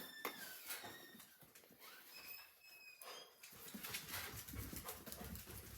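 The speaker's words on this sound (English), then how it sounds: "Hubby's back so you hear the dogs." Dogs at home barking and whining nearby, several sharp yelps and whimpers in the first half followed by busier, scrabbling commotion, quiet overall.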